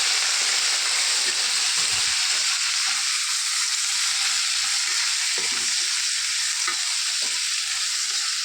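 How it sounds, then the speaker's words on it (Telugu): Okra pieces fry in a pan with a loud, steady hiss that carries through the whole stretch, broken by occasional soft scrapes and taps of stirring. "బాగా వేయించుకోవాలి బెండకాయ ముక్కలు. బాగా వేగుతాయి."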